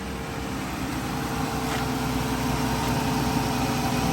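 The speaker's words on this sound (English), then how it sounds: "We're gonna go turn the engine on and we're gonna put the heat on high." Ram ProMaster van engine idling with the heater blower on high, a steady low rumble with a constant broadband fan hiss, close and continuous without speech.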